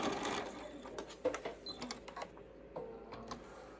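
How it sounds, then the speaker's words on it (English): A sewing machine stitches back and forth for locking stitches along a 1/4 inch seam on a fabric face mask, a close mechanical whir with quick rhythmic clicks, heard alone and fairly quiet. "Do my locking stitches, and I'm using a 1/4 inch seam here."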